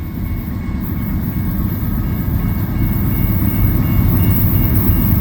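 Train locomotives roll past a level crossing with a loud, steady low rumble that builds slightly over the seconds, close by and without voices.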